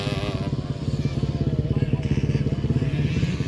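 A 1978 Yamaha YZ motocross bike engine, just restarted, runs close by with a rapid, loud, pulsing two-stroke putter that holds steady for a few seconds.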